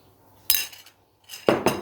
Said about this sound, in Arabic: ونبدأ برضو نقلب كل حاجة، بنقلبها بالشوكة بالمعلقة